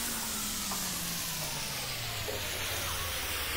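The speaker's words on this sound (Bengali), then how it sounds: "এখন চিকেন সহ মশলাটা একটু কষাবে।" Chicken frying with spice masala in a pan, a steady close sizzle and hiss lasting throughout with no pauses or voices.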